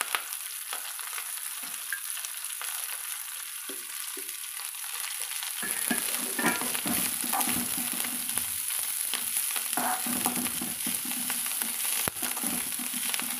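Agathi greens sauté in a hot pan, giving a steady, dense sizzle with faint stirring scrapes throughout; the frying grows slightly louder and busier partway through.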